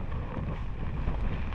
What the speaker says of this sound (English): It's got really windy again.